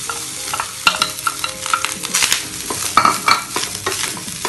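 Rice roasts with whole spices in a hot pan: a spatula scrapes and tosses the grains in quick, irregular strokes over a light sizzle, close and fairly loud, with no voices.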